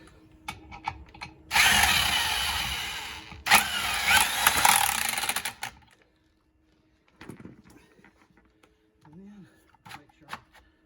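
A power wrench tightens lug nuts on a 2013 Dodge Avenger wheel during a tire rotation, two close whirring bursts over several seconds, followed by quieter clinks and handling sounds.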